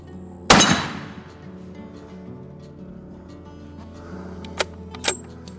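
A single loud 7mm Magnum rifle shot fired through layers of brush at close range cracks sharply and rings off, followed by quiet outdoor ambience and two faint clicks near the end.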